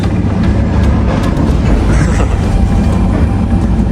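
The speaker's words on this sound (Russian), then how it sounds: "Сейчас загрузились в поезд и едем уже в Минск." Steady low rumble of a moving train carriage bound for Minsk, a continuous loud drone with faint rattles and no voices.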